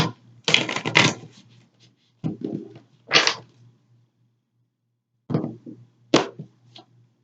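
A tarot card pulled from the deck: bursts of close card shuffling and sliding, with a few quick snaps as cards are drawn and placed, separated by quiet pauses.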